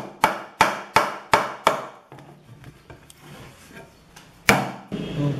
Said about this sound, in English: Probably need a hammer to bang these in, because they're a bit moist.